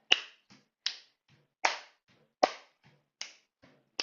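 Sharp hand claps in a steady step-clap exercise rhythm, about one loud clap every 0.8 seconds, close and dry, with softer step sounds between them and no talking.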